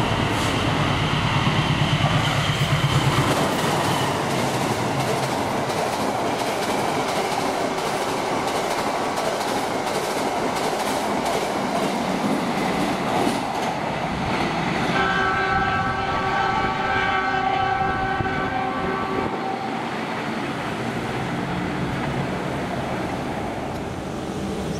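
An Indonesian train, the K51, passes at Maswati station: a loud, continuous rumble of rolling railcars with rhythmic wheel clatter, and steady horn-like tones sounding partway through, with no talk.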